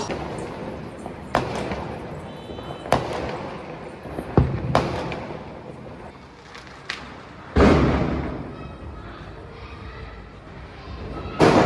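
Diwali firecrackers bursting across a Vizag neighbourhood where lanterns are lit: a string of sharp, irregular bangs and pops, some distant and some close, with a loud near burst and lingering crackle toward the end.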